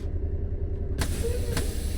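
A truck's parking air brake in American Truck Simulator releases a sudden loud burst of hiss over a steady low diesel idle, followed by a second short puff.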